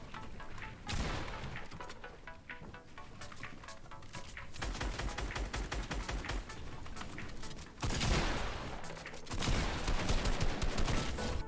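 Rapid gunfire in a Fortnite match, dense bursts of loud, crackling shots repeated almost without pause, with sharper heavy volleys near the end and no voices.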